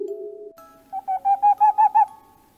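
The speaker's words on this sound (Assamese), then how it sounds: "তেনেতেই সেই কাষৰ গছডালত চৰাই কেইটামানে মাতি উঠিল।" Several birds call from a nearby tree at night, a run of six or so repeated hooting, owl-like notes rising in a quick even rhythm, clear and close, preceded by a few lower tonal sounds.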